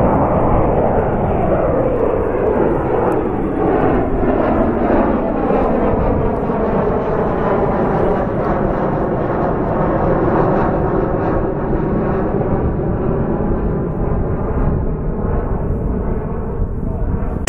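Loud, steady jet engine roar of an airliner on a takeoff roll from runway 24 left, rising in pitch with strong harmonic whine and continuous broadband rumble throughout, no talk over it.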